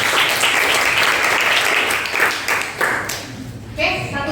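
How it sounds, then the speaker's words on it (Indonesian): Classroom of students clapping for a classmate, a steady, loud round of applause that tapers off toward the end as a voice begins to speak. "Tepuk tangan buat Rival."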